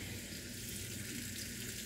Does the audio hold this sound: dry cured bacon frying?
yes